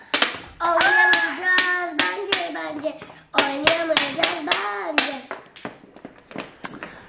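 Hands clap at home, with sharp, closely spaced claps in two bursts mixed with children's and adults' voices talking and calling out nearby.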